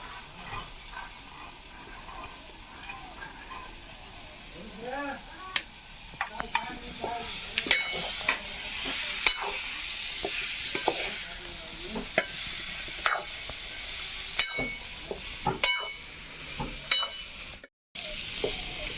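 Fresh pigeon peas tipped into a hot pan for a village-style brinjal curry, sizzling steadily while a spoon scrapes and stirs them in repeated close strokes; no talking.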